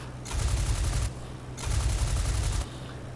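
Two sustained bursts of aircraft machine-gun fire in the IL-2 Flying Circus combat flight game, each a rapid, dense rattle lasting about a second, separated by a short pause over a steady engine drone.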